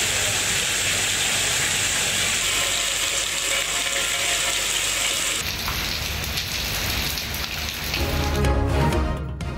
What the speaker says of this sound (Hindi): इस्लामाबाद और रावलपिंडी में सुबह सवेरे बादल बरसे।